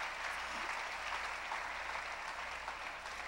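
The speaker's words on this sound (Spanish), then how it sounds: "Démosle un aplauso a ellos." A church congregation applauds first-time visitors with a soft, even wash of many hands clapping, steady and somewhat distant throughout, with no voices on top.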